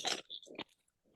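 Crisp bites and crunches of McCoy's Ridge Cut salt and malt vinegar crisps, close up, two or three sharp crunches followed by softer chewing, with no talk over them.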